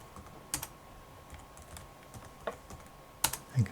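Password being typed on a computer keyboard, a handful of quiet, sparse key clicks with pauses between them, heard close up in a silent room with nobody speaking.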